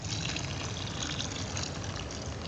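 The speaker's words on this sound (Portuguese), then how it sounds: "E acrescentar água na massa e mexer bem." Water pours steadily into a mortar mix for a roof slab leak repair, a continuous close splashing rush with no pauses and no talk.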